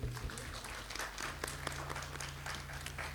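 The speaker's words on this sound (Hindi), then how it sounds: "तालियां आप सबकी तरफ से" Audience at a ghazal evening clapping together in a continuous wash of applause, moderately loud and steady, with a low hum underneath.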